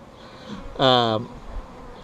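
A honey bee buzzes past near a top bar hive in a bee yard, a single short, loud, close drone lasting about half a second against quiet background hum.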